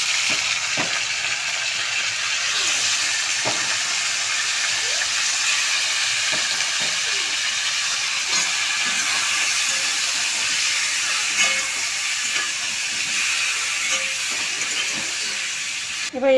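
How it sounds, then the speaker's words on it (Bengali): Chicken pieces sizzle with onions in hot oil, a steady bright hiss and crackle with occasional soft clinks of stirring. "তেলের মধ্যে পেঁয়াজ দিয়ে দিলাম মাংস করার জন্য। পেঁয়াজগুলোর মধ্যে আমি মাংসগুলো সব দিয়ে দিলাম।"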